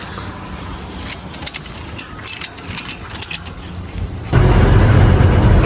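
A truck carrying a load of 20 tons of garlic starts off with clicks and mechanical rattling, then its engine swells into a loud, steady, close rumble.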